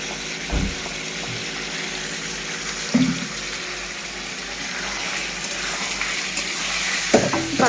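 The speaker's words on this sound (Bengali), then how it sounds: "এবার মশলাটা দিয়ে দেবো।" Masala spices going into a pot of mutton curry, with a steady sizzle of frying and a few scraping stirs and clinks of the spoon against the pot throughout.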